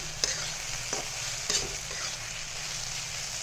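A spoon stirs fried water hyacinth flower buds in a hot pan, giving a few distinct scrapes and taps over a continuous low sizzle. It is close up, fairly quiet and has no voices.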